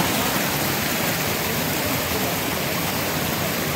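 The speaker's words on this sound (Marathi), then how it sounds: "आता धबधबा आहे." Waterfall at Katalkada, Rajapur at night: a steady, dense roar of falling water, loud and unbroken, with no voices or other sounds over it.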